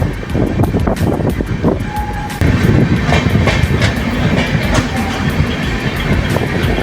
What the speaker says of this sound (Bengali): আর এই যে এবার আমাদের ট্রেন ঢুকছে কোলাঘাট ব্রিজে।